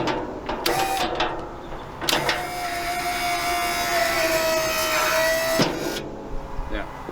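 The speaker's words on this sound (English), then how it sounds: "it's a double acting ram, so you'll see in a minute how it pulls itself up" A Hyundai electric mini dumper tips its skip on a double-acting ram: clunks, then a steady electric motor whine holding for about three and a half seconds before a final knock, with voices talking nearby.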